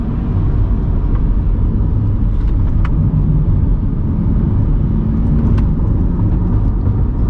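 A Corvette C8 with heat-soaked brakes cruises along, its engine and road noise forming a steady, close, low rumbling drone that holds evenly throughout with no talk.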